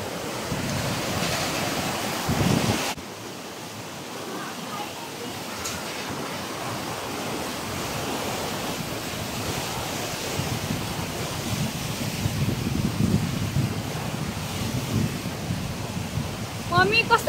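Fast-flowing Karnali river in remote western Nepal, a loud continuous rushing roar of water with buffeting wind on the microphone, steady throughout with no talk.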